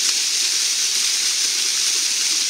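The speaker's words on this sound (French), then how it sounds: "j'ai pas pu résister à montrer la petite cascade à Jessie." A small waterfall cascades into a pool below in a summer woodland setting, giving a steady, even hiss of falling water that holds unchanged throughout at moderate loudness, with no voices.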